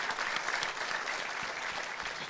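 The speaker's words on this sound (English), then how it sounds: "Can I have a round of applause for Elisha, Shafiu, and Dr. Paul?" Audience applause fills the room at a panel discussion at a conference fireside chat, a dense, steady clapping from a crowd that holds at even loudness throughout.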